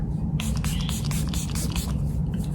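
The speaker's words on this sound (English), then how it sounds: "I'm going to be using again the Milani Make It Last setting spray" Several quick misty spritzes of Milani Make It Last setting spray come in a rapid, uneven series, close and soft, over a low steady background hum.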